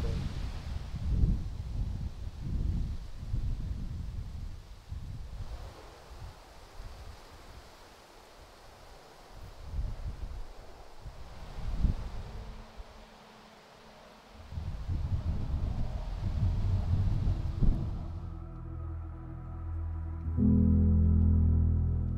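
Cold wind blows outdoors around a parked camper van, a steady broadband rush that swells and dips in gusts before quieter sounds take over near the end, with no talking.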